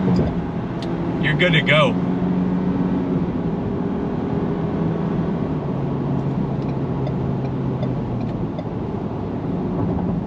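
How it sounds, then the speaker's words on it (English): A 2024 Ford Ranger XL STX pickup's turbocharged engine drones steadily from inside the cab while accelerating, a low continuous hum running beneath a person talking throughout. "Gotta wait for the turbo to spool up, but once it does, and that transmission starts shifting,"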